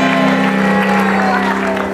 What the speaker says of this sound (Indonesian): Tapi hebat, tepuk tangan dong untuk Dina dong.